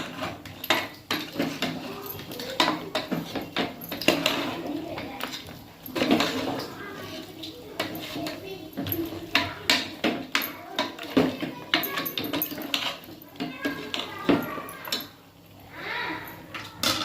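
Mutton curry being stirred with chili powder in a pan: repeated scraping and clinking of a spoon against metal in an irregular rhythm, close and moderately loud, with a voice talking over it.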